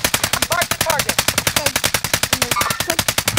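The FiNN LMG light machine gun fires in a video game as a fast, sustained string of evenly spaced loud shots, close and dominating, with faint game sounds underneath.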